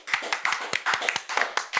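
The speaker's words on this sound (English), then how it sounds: "Give him the biggest applause" A talk-show audience applauds Sasha Farber with quick, close, crisp hand claps that rise and fall in an uneven, lively burst.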